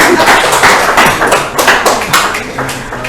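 An audience claps together in a steady, loud round of applause at an evening session, continuing without talk for several seconds.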